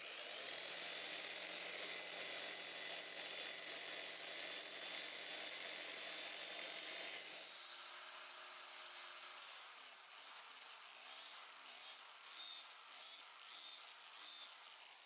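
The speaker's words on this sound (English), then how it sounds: "I'm going to, yeah, sand these scuffs out with a 6-inch sander." A 6-inch power sander sanding scuffs from a boat propeller whines and rasps continuously at high speed, its pitch shifting partway through as the tool bears down harder, with no talking.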